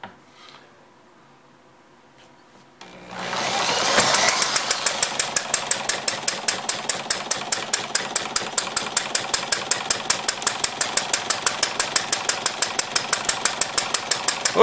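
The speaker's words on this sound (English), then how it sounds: "we're running with Chuck Fellows' carburetor on there. Seems to be doing a great job" A Webster engine fitted with its original Chuck Fellows carburetor fires up after a near-silent start, then runs at a steady, rapid rhythm of sharp exhaust pops, loud and close throughout.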